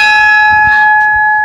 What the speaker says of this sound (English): Ship's bell.